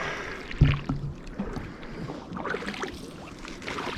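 A canoe is paddled across a lake on a backcountry trip in Algonquin, with soft water swishes and splashes from the strokes over a steady wash of wind and open-air rumble.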